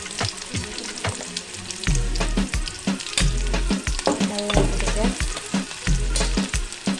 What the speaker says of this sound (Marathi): पहिला आधी तेल तापून घ्यायचं, नंतर कांदा घालायचा। कांदा लाल होईपर्यंत भाजायचा।